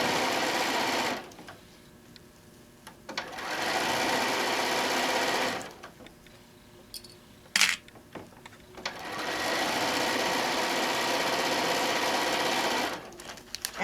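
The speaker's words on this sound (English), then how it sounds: "So we're going to sew all the way around." A sewing machine stitches around an apron panel, running in long steady whirring bursts separated by short pauses, close and loud, with a brief clack between runs.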